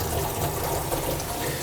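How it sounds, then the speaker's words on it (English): Water from an overfilled kitchen sink leaks into the cabinet below in a continuous close rush that stays steady throughout the short moment. "I see it leaking and it's going down like flipping gangbusters"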